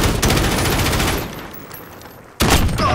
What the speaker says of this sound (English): it's a shotgun, that's how I lost